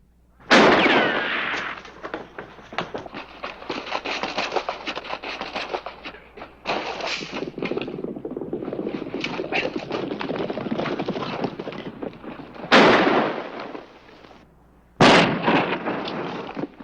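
Gunshots in a western shootout crack out sharply, with a loud burst at the start and more sudden reports near the end, amid scuffling, hoofbeat-like clatter and background noise.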